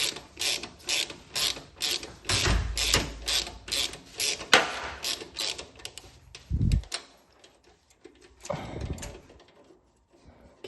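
Half-inch drive ratchet unbolting a nut on a Craftsman brake: quick runs of close, crisp metallic clicking in several bursts, separated by short pauses and occasional thuds.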